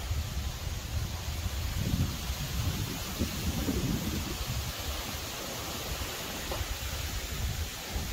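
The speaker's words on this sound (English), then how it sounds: "But we got a storm brewing here." Thunderstorm building outdoors among tall swaying trees: a steady wash of rain with deep, rolling thunder rumbles swelling and fading throughout, fairly close and continuous.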